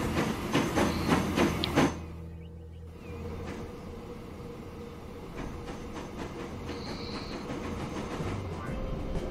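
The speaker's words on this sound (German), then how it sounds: "Da kommt ein neuer Zug rausgefahren." A train rolls out in the Transport Fever rail simulation game, a rumbling, clattering roll with a brief whistle-like tone, loud at first and then settling into a steady, quieter run.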